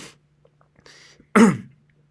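A person with a sore throat makes a short, quiet throat sound, followed by one loud, close cough, then silence.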